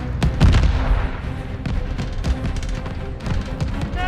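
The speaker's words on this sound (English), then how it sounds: "Watch that tracer fire." Tracer gunfire in a Call of Duty: Vanguard cutscene rattles out in loud, dense bursts of repeated shots and booms from close by, continuous for a few seconds.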